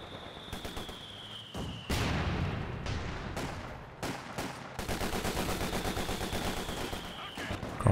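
Machine gun fire in Company of Heroes 2, bursts of rapid shots rattling near and far in an uneven rhythm, swelling louder in the second half amid other battle noise.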